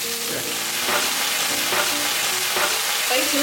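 Bean sprouts stir-fried in a hot wok hiss and crackle steadily, with several rhythmic tossing scrapes of the spatula, close and clear with no talking.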